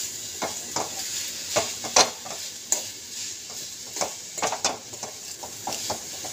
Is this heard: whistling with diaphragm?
no